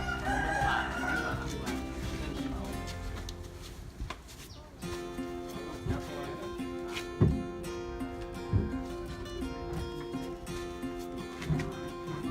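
Rooster crowing at a Lao or Thai village gathering, a drawn-out harmonic call near the start under a busy background of music and chatter, followed by scattered louder thumps.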